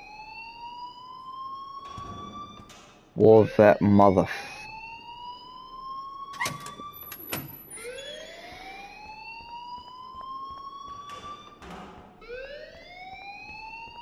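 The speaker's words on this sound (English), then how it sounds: "please turn off that alarm since that's your job" A fire alarm wails in the video game Life is Strange Remastered: repeated rising, siren-like sweeps carry through the whole stretch while people talk over it and a brief loud burst breaks in early.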